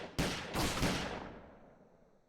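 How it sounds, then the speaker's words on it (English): A gunfight erupts in a burst of rapid gunshots, three loud reports in quick succession with echoing tails that fade slowly. "A roaring gunfight broke out after that."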